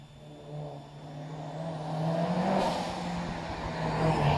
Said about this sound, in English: Mitsubishi Lancer Evo 9. Gilchrist Jones through the crossing.